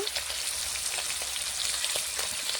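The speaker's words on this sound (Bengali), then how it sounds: "ওই তেলেতে এবার চিংড়ি মাছটা ভেজে নেবো ভালো করে একটু লবণ দেব একটু হলুদ দেব" Shrimp fry in hot oil with salt and turmeric in a pan, giving a loud, dense, unbroken sizzle and crackle close by for the whole stretch, with no talking.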